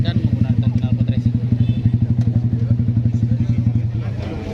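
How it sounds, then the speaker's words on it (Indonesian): A loud motorcycle engine with a racing exhaust revs with a rapid, pulsing exhaust rumble, steady and close throughout. "keseluruhan kendaraan yang kita amankan menggunakan knalpot racing"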